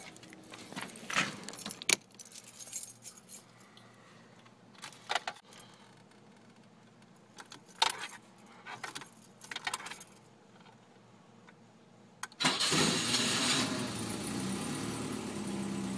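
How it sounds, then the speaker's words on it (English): Keys jangle in bursts near a cold 1982 BMW 325, then the engine fires up from cold and settles into a steady, loud idle for the last few seconds. "Alright, let's get in and fire her up."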